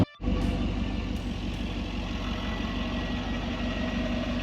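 A carbureted Ford F100 truck engine pulls steadily in second gear on a mountain road, a loud, continuous low-pitched rumble and drone heard from inside the cab after a brief cut at the start, with no talking.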